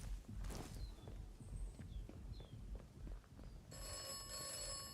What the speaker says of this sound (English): Looks like we're gonna have to answer the phone.